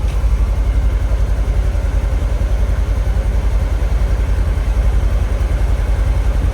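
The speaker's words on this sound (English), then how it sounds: "Good exhaust note." A steady, loud engine of a 2024 Polaris Xpedition side-by-side idles close by with a low, pulsing exhaust rumble that holds constant throughout.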